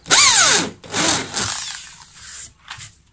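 A power drill with a hinge cup boring bit bites into a wooden wardrobe door, a sharp whining burst followed by shorter grinding pulses as the bit cuts, close and loud.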